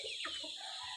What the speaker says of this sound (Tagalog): syempre meron din akong maraming mga tandang mga ka-farmers